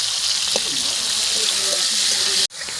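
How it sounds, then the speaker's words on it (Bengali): Tomato frying with salt in a pan gives a steady, even sizzle and hiss that carries through to a brief drop-out near the end, with no talking. "লবণ দিয়ে টমেটোটাকে একটু ভেজে নেব, যাতে টমেটোটা খুব তাড়াতাড়ি নরম হয়ে যায়"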